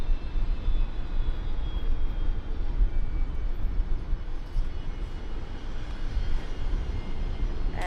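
A Qantas airliner rolls for takeoff on runway 19 right at Brisbane Airport, its engines a steady, broad roar that holds at an even loudness throughout with no talk over it.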